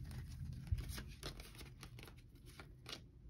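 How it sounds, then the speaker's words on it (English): Soft, rapid papery riffling as a deck of oracle cards is shuffled in repeated bursts, close by, with no talking. "Let me just shuffle these."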